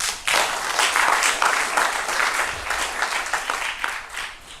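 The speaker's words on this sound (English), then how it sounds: "I request that we give our presenters a lot of applause." Audience applause for conference presenters in a theatre hall, a dense, steady wash of many hands clapping that swells in just after the start and holds loud and full throughout.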